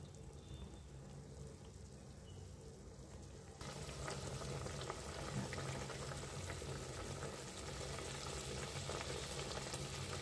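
Moraiya khichdi with vegetables cooking in a pot over a gas flame, a steady soft bubbling and sizzle that grows louder and denser partway through as the heat is raised, continuing without any talk.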